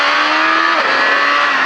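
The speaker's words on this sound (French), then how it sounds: "de manière à pouvoir relever la moto et accélérer" A motorcycle engine revs hard and loud at close range, accelerating out of a slow corner on a track-day riding course, with a steady high-pitched whine that shifts pitch partway through.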